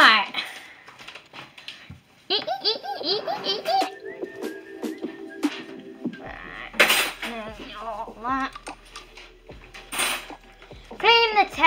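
Dishes and cutlery being cleared off a table at home, with scattered clinks and scrapes of forks, spoons and plates under a child's chatter and giggles and an adult voice.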